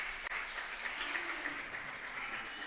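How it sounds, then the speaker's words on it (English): A conference room full of people applauding panelists at a cooperatives conference gives a dense, even wash of clapping that holds steady and fairly soft for nearly three seconds. "Let's give them a round of applause"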